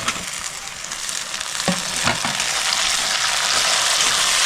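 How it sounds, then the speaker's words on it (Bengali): Tomato and green chillies tipped into onions frying over high heat, with a loud, dense sizzle and a few knocks from the ingredients and utensil, the hiss swelling as they hit the oil. "পেঁয়াজটা আমার লাল লাল করে ভাজা হয়ে গেছে। আমি টমেটো আর কাঁচা লঙ্কাটা দিয়ে দিচ্ছি।"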